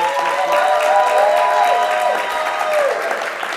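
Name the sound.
audience applause at conference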